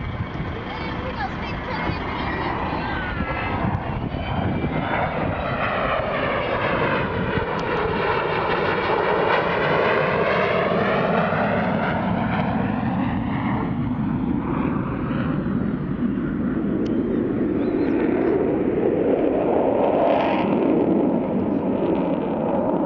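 An Avro Vulcan bomber flies over Dunsfold with a loud, continuous jet roar that swells and shifts in pitch as it passes, with a voice faintly present underneath.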